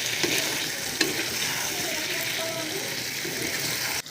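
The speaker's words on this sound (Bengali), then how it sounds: "মাংসটা এর মধ্যে ঢেলে দিচ্ছি। জল দিব আর কষতে থাকবো।" Chicken meat for a kosha curry sizzles and fries in a pan while being stirred, giving a steady, close crackle with occasional scraping knocks from the spoon.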